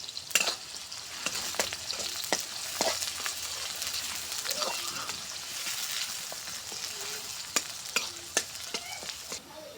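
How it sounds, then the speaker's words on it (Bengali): Chopped onions fry in oil with a white cardamom pod, browning in a steady sizzle broken by intermittent stirring clinks and scrapes, close and moderate in level. "পেঁয়াজটা আমার বাদামি করে ভাজে নেওয়া হলো।"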